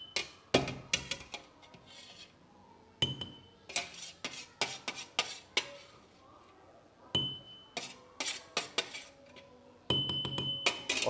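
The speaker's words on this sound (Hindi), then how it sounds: "और कूटने में डालकर इसको थोड़ा अच्छे से कूट लेंगे।" Crushed onion is pounded in a mortar, with clusters of sharp knocks and scraping grinds in irregular bursts, close but fairly soft, with faint talking under some strikes.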